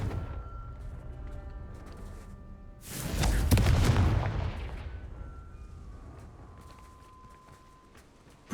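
A Confringo blast spell from Hogwarts Legacy, a single booming explosion that bursts loudly and decays into a long rumbling tail over soft background ambience.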